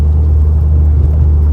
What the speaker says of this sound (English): the engine sounds wonderful